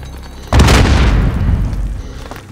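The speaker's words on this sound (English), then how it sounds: "Just chuck a grenade around the corner there." A grenade explodes in Call of Duty: Modern Warfare, a sudden loud close boom with a heavy low-end blast that rolls on and slowly fades over a couple of seconds.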